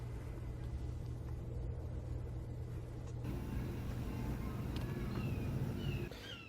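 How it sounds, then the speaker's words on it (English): Propane burners on a Royal Gourmet 36-inch griddle run with a steady low roar and rumble that holds for the whole stretch, growing slightly fuller partway through. "So let's get this Royal Gourmet Griddle going."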